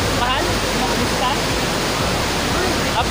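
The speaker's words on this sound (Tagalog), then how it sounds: "Ang Talon-Pari Falls ay matatagpuan sa sentro ng Barangay Kalawakan, DIT Bulacan." Steady roar of the Talon-Pari Falls waterfall in DRT Bulacan, a dense broadband rush of falling water that holds continuously close by with no pauses.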